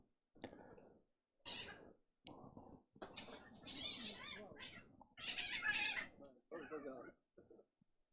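A cat meows in several separate short calls with brief gaps between them, fairly close and clear, with no talking over the calls.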